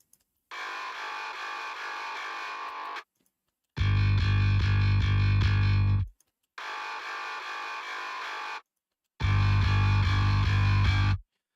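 Distorted metal guitar played through an instrument rack, alternating between two harsh, buzzing chugged passages, each a few seconds long, separated by brief silences, loud and close.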